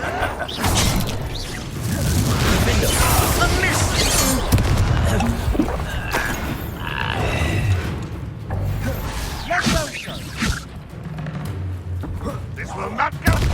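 Fire spell explosions in Hogwarts Legacy combat, with heavy booms, crashes and whooshes that come one after another, under a busy mix of voices shouting in battle.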